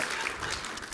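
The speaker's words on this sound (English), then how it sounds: "Give them a hand clap." A church congregation gives a brief burst of hand-clap applause, a dense even patter of many hands lasting about a second.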